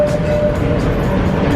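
A tram running through a purpose-built junction produces a loud, steady low rumble with a faint metallic squeal of wheels on rails, heard close and continuous.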